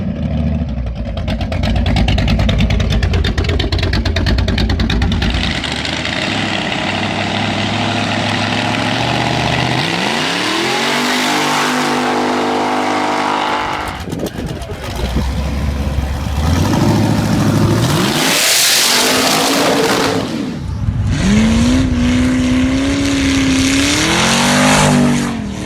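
A Boss Hoss V8 motorcycle engine roaring and accelerating, loud and close, with sustained revving, gear changes and rising engine pitch over a long run.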